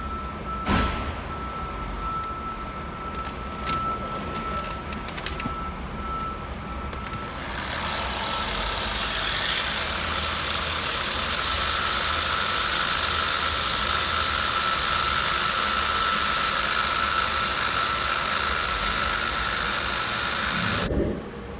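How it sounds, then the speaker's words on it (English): A buffer spinning at about 1300 RPM polishes an American Force wheel. After several seconds of low background noise it starts a loud, steady whir and grind that holds until it cuts off near the end. "I have my buffer set on about 1300 RPMs"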